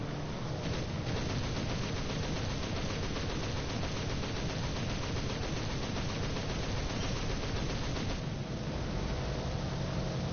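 Aircraft machine gun fire in the War Thunder video game, a steady, continuous rattling barrage lasting throughout, dense and noisy with a brief change in texture near the end.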